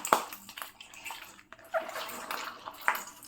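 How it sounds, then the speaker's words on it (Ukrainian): Cherries squeezed and mashed by hand in a container for homemade cherry liqueur, a series of wet squelches and juicy sloshes at an irregular pace, close and fairly quiet. "Душимо, видушуємо а потім вже як руками не зможемо переминати, то візьмемо інструмент"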